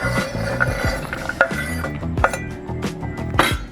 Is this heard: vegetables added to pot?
yes